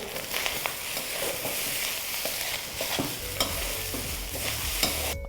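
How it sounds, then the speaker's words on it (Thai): Spring onion and chili stir-fried into late-night fried rice in a hot pan, a steady close sizzle broken by repeated scraping and tossing strokes of the spatula, loud and continuous with no talking. "เราก็จะใส่ ต้นหอมแล้วก็พริก ลงไปผัดด้วย"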